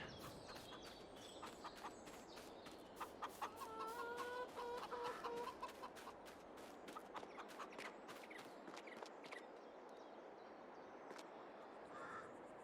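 Chickens in the Farming Simulator 22 game cluck repeatedly in a sharp, scattered rhythm, a crow or cackle rising briefly over a low, quiet background hiss, faint and without talk.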